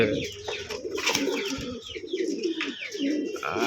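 Pigeons kept for sale coo repeatedly nearby, several birds overlapping in soft, throaty rolling calls that carry on steadily without a break.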